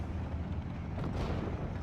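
Explosion of a half-track struck by a large gun in the World War II strategy game Steel Division 44: a dense, rumbling boom that rolls on steadily without any clear single crack.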